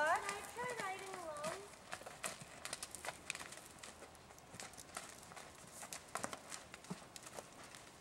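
A ridden horse's hooves clip-clop at a walk outdoors, a steady run of soft knocks under a voice and other talk, with a brief neigh-like sound at the start.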